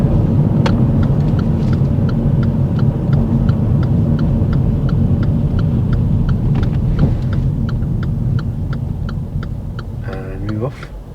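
A learner driver's car pulls up on the left, its engine rumbling low inside the cabin while the indicator ticks in a steady rhythm, the engine note easing off near the end.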